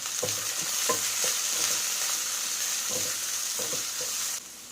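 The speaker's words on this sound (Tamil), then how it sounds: "நல்லா ஹை ஃப்ளேமில் வச்சுட்டு நீங்கள் வதக்குங்க." Sliced carrot and capsicum stir-fried on high flame for egg fried rice, a steady close sizzle broken by repeated scraping stirs of a spatula against the pan.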